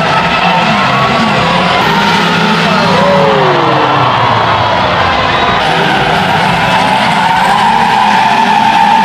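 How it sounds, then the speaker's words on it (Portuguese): A riderless motorcycle spins in circles at a crowded car show, its tires skidding and squealing steadily and loudly while the engine roars and a crowd murmurs and calls out underneath. "a moto está a girar sem ninguém"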